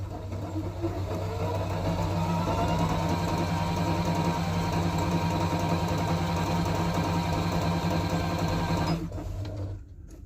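A Singer Rumina 3000 sewing machine runs a triple stitch with a steady, fast mechanical whir, close and loud for about nine seconds before it stops abruptly.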